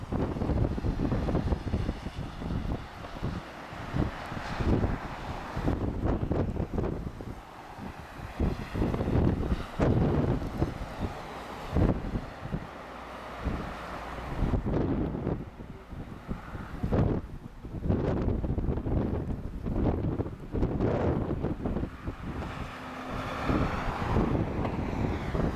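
Strong wind buffets the microphone during a Lufthansa airliner landing at Madeira Airport, loud gusty rumbling and blustering throughout, with a faint aircraft engine sound mixed in.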